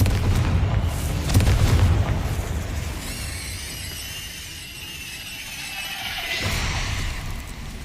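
Confringo fire spell blasts in the Hogwarts Legacy game, a booming burst followed by a long rumbling tail with crackling fire, then a second, quieter blast near the end, with no talking.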